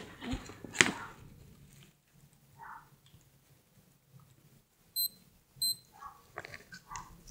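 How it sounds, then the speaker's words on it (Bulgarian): A SKMEI wristwatch alarm gives two short, high electronic beeps close together partway through, among quiet handling noises and rustling of an unboxed package. "Пак свети, аларма."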